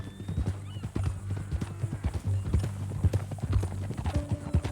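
Horse hooves clip-clop in a steady walking rhythm in Red Dead Redemption 2, close and clear, with a short neigh near the end and faint background game ambience.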